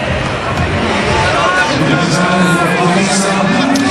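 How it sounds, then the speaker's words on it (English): Cricket stadium crowd at a Pakistan vs South Africa one-day international, cheering a caught catch with a steady, loud roar and babble that holds across the whole stretch. "And the crowds enjoyed that effort as well"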